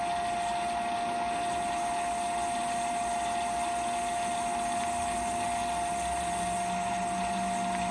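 A Nova DVR XP wood lathe, switched on by remote, runs with a steady motor hum and a sustained high whine, close and constant throughout without any talking.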